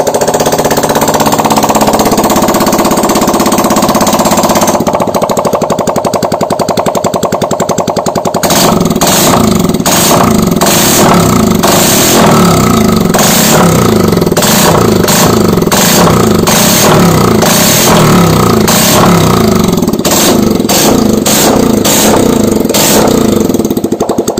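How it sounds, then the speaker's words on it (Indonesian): Motorcycle engine freshly rebuilt with new piston rings, running loud and close without its exhaust, a harsh rapid mechanical clatter with choppy revving pulses after a brief smoother start. "kita nyalakan motornya."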